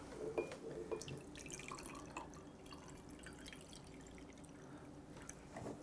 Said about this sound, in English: we are going to cover our egg in the vinegar